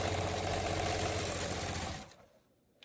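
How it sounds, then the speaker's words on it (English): A sewing machine runs a steady, close mechanical whir while re-sewing a line of quilting on a patchwork bow, then stops abruptly near the end, leaving near silence. "I'm going to re-sew that line of quilting right there"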